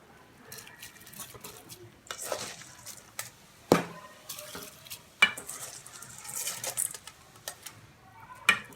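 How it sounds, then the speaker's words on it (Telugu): Soaked basmati rice is tipped into simmering water in a kadai on a low flame, then stirred with a spoon that scrapes and clinks against the pan, over a soft bubbling hiss. "ఇప్పుడు స్టవ్ సిమ్లో పెట్టుకొని 1 అవర్ నానబెట్టిన బాస్మతి రైస్ యాడ్ చేసుకోవాలి."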